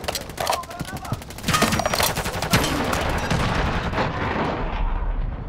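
Dense gunfire in the video game Call of Duty Modern Warfare 3, with rapid overlapping shots and heavy booms forming a continuous loud barrage that settles into a rumbling wash of battle noise.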